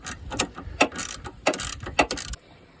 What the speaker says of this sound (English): This bracket right here, in behind here, there's an 8mm bolt. Remove that.